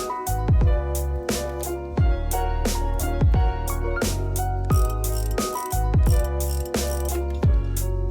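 Bolts on a car's brakes being fastened with a power tool in a mechanic video game, a series of close, loud ratcheting whirs in short repeated bursts, each ending in a sharp clack.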